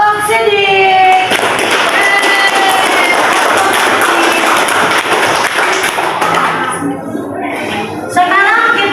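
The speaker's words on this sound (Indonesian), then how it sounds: "Tepuk tangan buat kelompok sidik." A classroom of students applauds a student group, loud mixed clapping and crowd noise lasting several seconds, with voices talking over and among the claps.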